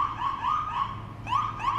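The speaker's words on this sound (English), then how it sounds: "We are hearing some sirens at this point" Police and emergency vehicle sirens sound during street protests with tactical-geared officers present, a wavering yelp cycling repeatedly at moderate distance over low traffic rumble, with no talking.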